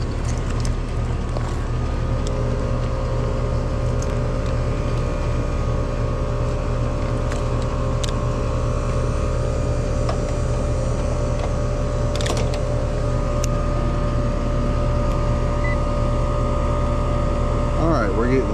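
An air conditioning compressor on a recently coil-cleaned unit hums steadily and loudly throughout, a constant mechanical drone with a few faint clicks on top.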